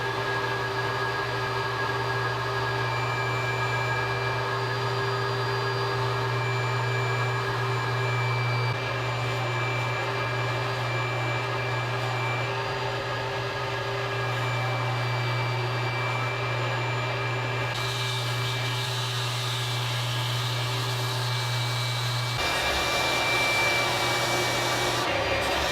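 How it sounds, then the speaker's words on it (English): A belt sander shapes a wooden neck for a crayon box diddley bow, a loud, steady motor whine and rushing abrasive roar running without pause, shifting slightly in tone as pressure changes. "I'm going to jump straight into the belt sander and shape away"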